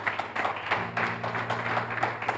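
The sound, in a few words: church congregation applauding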